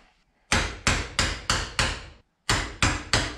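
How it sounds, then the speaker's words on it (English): A hammer strikes a drift or pin punch to knock a bearing race out of a Land Cruiser FJ40 front hub, eight sharp metallic blows, five in a quick steady run, a pause, then three more. "that's where you can get your drift or your pin punch in to knock the bearing out"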